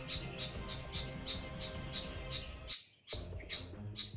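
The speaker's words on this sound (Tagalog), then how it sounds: "Para may sinasabi yung ibon." A bird calls nearby in the forest with a rapid, evenly spaced series of sharp chirps. The chirps break off briefly, then resume, and are moderately faint over a quiet background.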